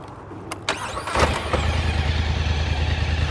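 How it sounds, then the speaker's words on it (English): A 2024 Polaris Highlifter 1000 engine cranks with a couple of short clicks and whirs, catches, and settles into a steady, deep, close idle rumble. "Let's start up the 1000 here."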